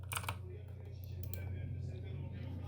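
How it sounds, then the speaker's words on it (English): Fingers tap a password on a computer keyboard in a quick cluster of clicking keystrokes, then a few scattered taps over a low, steady electrical hum. "Type in your password."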